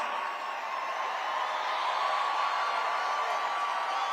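A large audience at a political event cheers and applauds for Kai Trump, a steady dense roar of clapping and whoops that holds without a break, with no clear talking over it.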